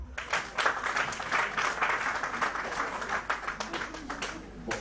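Applause from a church congregation at a wedding, with many hands clapping in a steady, moderately loud patter that lasts throughout with no voices over it.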